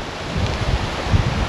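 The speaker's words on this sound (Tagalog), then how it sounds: "Lakas ng hangin." A strong wind blows through trees after a typhoon, producing a continuous loud roar of gusting air and rustling with uneven surges.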